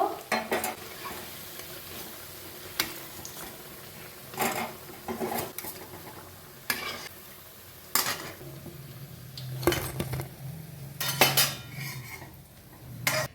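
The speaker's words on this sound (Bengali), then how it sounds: "বাকি পকোড়াগুলোও ভেজে নিচ্ছি অবশ্যই যখন পকোড়া ছাড়বে তেলটা গরম একদম হাই হিটে করে ছাড়বে" Spring onion pakoras frying in hot oil over high heat, with a low sizzle under repeated sharp clinks and scrapes of a metal spatula against the pan.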